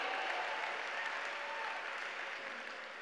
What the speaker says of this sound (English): Give Christy a round of applause, amazing.